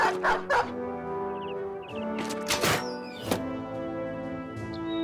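Dogs bark in short, punchy bursts during a battle in the strategy game Battle Brothers, a few scattered yips and barks sitting over a continuous musical score.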